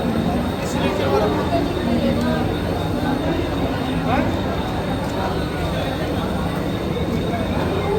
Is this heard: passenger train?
yes